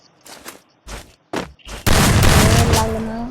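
Free Fire video game gunfire: several short separate shots, then a loud sustained burst of rapid firing, close and dominant.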